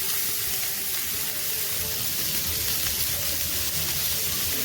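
Chicken pieces sizzle in hot oil in a pan, a steady, loud, close hiss and crackle that runs without a break and has no voices over it.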